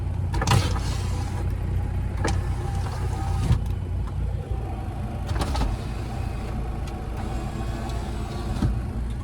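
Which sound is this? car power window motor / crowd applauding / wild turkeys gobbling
car power window motor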